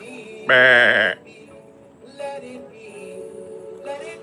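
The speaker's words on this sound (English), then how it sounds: "Sheep." A single loud, close sheep bleat, followed by quieter rustling and faint indistinct sounds.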